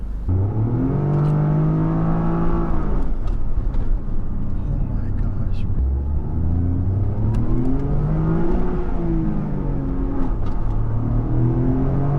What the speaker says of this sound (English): Driving the 2023 Toyota Corolla Core GR.